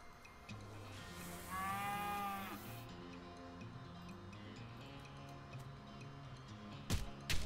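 A cow in the video game West of Loathing gives one drawn-out, wavering moo at moderate volume over a steady game music background, followed by a couple of sharp clicks near the end.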